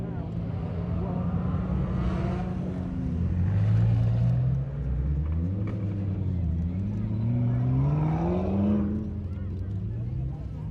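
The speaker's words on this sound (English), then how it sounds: "All the hypercar parade coming back down the hill over to here" Parade of hypercars driving back down the hill at Supercarfest, engines droning and rising in pitch as several cars pass in succession, with voices talking over the steady motor noise.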